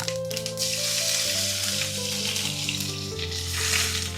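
Curry leaves crackle and spit as they hit hot coconut oil with popped mustard seeds, a steady close sizzle lasting throughout over soft background music.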